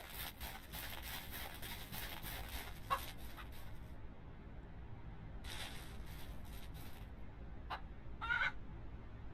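Chickens in the Ranch Simulator game cluck in short, scattered bursts over a constant faint background hiss.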